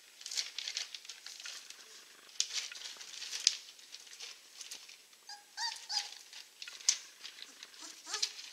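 Young Czechoslovakian wolfdog puppies, about 25 days old, whimper and squeak faintly after waking, with soft pattering and rustling in a whelping box; thin intermittent cries come close but quiet.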